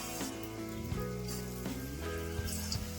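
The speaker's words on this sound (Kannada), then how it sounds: "ಎಣ್ಣೆ ಕಾದಿದೆ. ಇವಾಗ ಒಂದೊಂದೇ ಬೋಂಡಗಳು ಹಾಕೊಂಡ್ಬಿಡೋಣ." Udupi bonda batter dropped into hot oil in a pan, crackling and sizzling steadily close by, with soft clinks and pops scattered through, no voices.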